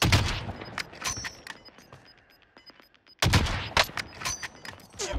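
Gunfire in the Warzone video game: bursts of sharp shots crowd the opening three seconds, a near-silent lull follows, then a loud fresh volley of rapid shots resumes and continues to the end.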